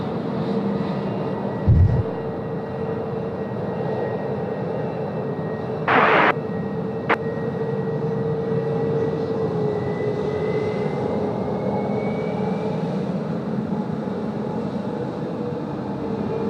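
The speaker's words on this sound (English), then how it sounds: "United 842 now cleared for takeoff, runway 16 right" A United airliner on its takeoff roll on Sydney's runway 16 right makes a sustained distant jet engine roar that holds steady, with a couple of brief bumps and clicks nearby.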